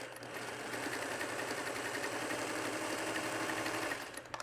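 A sewing machine runs steadily while stitching quilt blocks made from mini-charm fabric squares: a fast, even mechanical whir with rapid needle ticking, close and alone, stopping near the end.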